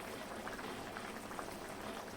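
Brinjal and potato curry bubbling at a steady boil in a pot of hot water, a soft continuous simmering hiss with no voices.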